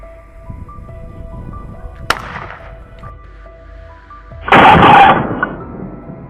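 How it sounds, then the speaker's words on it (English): Hunter's rifle fired at a wild boar: a sharp crack near the middle, then a louder, longer blast later, each standing alone against a quiet outdoor background. "my shot rang out, ending the threat in an instant"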